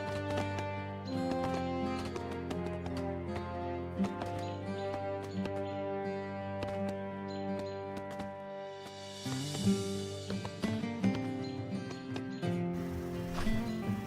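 Cavalry horses in the strategy game 0 A.D., with rapid clustered hoof clip-clops and occasional whinnies over a sustained musical backdrop, the hooves thickening into a dense patter toward the end.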